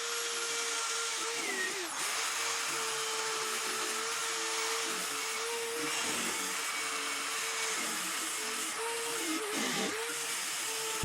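An 80 grit sanding wheel on a power tool works over the metal of an old wagon, producing a loud sustained whine and grinding hiss with brief dips in pitch as it presses and lifts.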